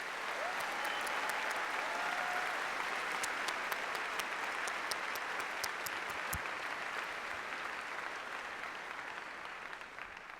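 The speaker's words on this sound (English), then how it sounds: "Let's give them all a healthy round of applause." Sustained applause from a large audience in a university fieldhouse at a freshman convocation, following a police pipes and drums performance, steady and dense throughout and slowly tapering off at the end.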